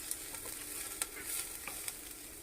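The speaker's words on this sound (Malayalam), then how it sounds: "മൊത്തത്തിൽ ഈ സവോളനൊന്നിങ്ങനെ വഴറ്റിയെടുക്കാം." Onions sautéing in a pan that was once rusty, a soft steady sizzle with a few brief scrapes and clicks of stirring, quiet and close.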